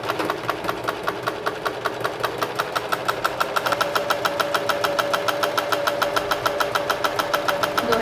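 A sewing machine runs steadily, stitching a 1 cm seam along the hem of a cotton dish towel, with a fast, even mechanical clatter that continues without pause.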